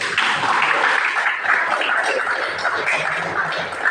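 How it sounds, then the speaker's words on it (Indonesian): A classroom group claps together in a dense, steady burst of applause lasting a few seconds, fairly close and moderately loud. "Kasih aplaus dulu."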